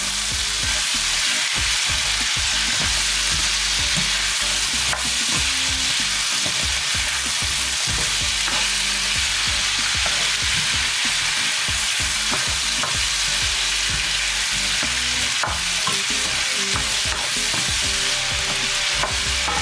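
Vegetable rice being stirred in a hot frying pan, a loud, constant sizzle broken by repeated scraping strokes of a spoon or spatula over the pan, close up with no talking.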